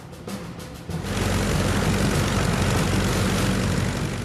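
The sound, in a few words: P-51 Mustang propeller aircraft engine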